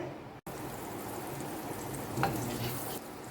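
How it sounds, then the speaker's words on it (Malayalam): Butter sizzling and frying in a hot pan for butter garlic eggs, a steady close crackling hiss throughout with no talking. "ഗൈസ് നമ്മൾ ബട്ടർ ഇടാണ് അങ്ങോട്ട്"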